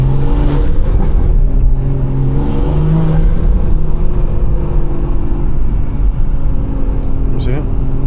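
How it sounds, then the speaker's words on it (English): BMW engine intake roaring while driving, a loud continuous drone with rising and falling pitch as the car pulls, steady rumble throughout and a brief squeak near the end. "Listen to that intake."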